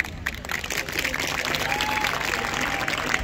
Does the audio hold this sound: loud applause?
yes